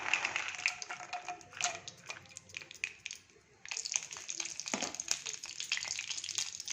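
Raisins, cashews and almonds frying in melted ghee on a stove, a close bubbling sizzle with clattering spoon or pan taps, briefly dipping quiet midway before picking up again.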